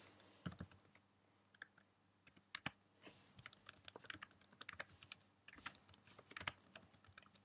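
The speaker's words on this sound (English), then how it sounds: "I'll type something now." Computer keyboard being typed on, quiet irregular clicks of keys tapped in quick uneven bursts, close by with no talking.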